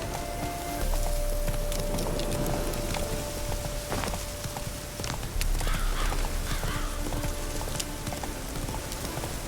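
Horse hooves clip-clopping in The Witcher 3, steady rhythmic footfalls running continuously through the clip over a constant ambient bed with a sustained tone.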